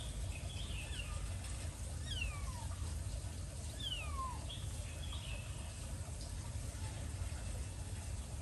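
A caught cat meows repeatedly, giving about five thin, falling cries at uneven intervals over a steady low rumble, moderately close and not loud.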